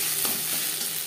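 Ginger paste hitting fried, reddish-brown onions in a pan, giving a steady, close sizzle with a brief stir over about a second and no voices.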